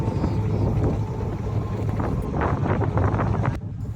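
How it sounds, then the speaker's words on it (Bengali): Strong wind roars steadily across the microphone in front of a houseboat on Tanguar Haor, a loud continuous buffeting with gusts and no voices. "হাউস বোটের সামনে প্রচুর বাতাস।"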